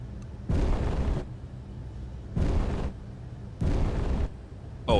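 Guns firing on a space station in Space Engineers: three distinct loud bursts of rapid automatic fire separated by short pauses, with a low background hum between them.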